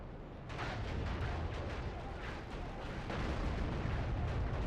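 Heavy weapon fire from a mech in the Steel Battalion: Heavy Armor video game, a dense, continuous roar of booming blasts and bursts that stays loud across the whole stretch.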